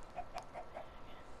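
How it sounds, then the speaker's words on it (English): A chicken clucks four times in an even rhythm, quiet and somewhat distant over a low background hiss. "hello random chicken"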